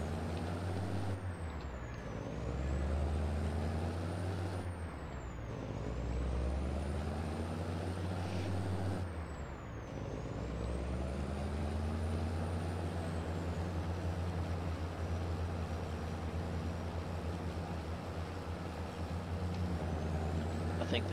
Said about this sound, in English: I think this truck will go all the way up to 70